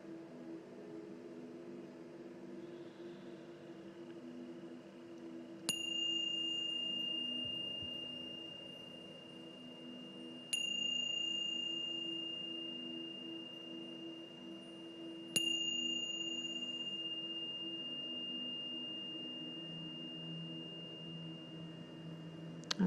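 Three clear meditation bell strikes ring out about five seconds apart in a quiet room. Each rings bright and sustained, then fades slowly over a soft, steady background hum.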